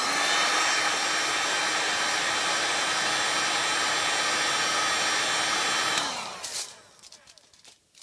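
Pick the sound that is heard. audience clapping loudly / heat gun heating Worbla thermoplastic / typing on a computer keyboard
heat gun heating Worbla thermoplastic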